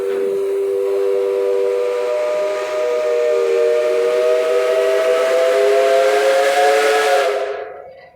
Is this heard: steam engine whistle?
yes